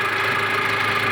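A Nissan TD27 diesel engine in a 2.5-ton forklift runs at a steady idle, a continuous close, even rumble with a faint knocking texture and no voices.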